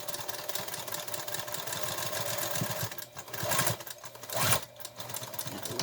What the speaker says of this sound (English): So we just sew it together.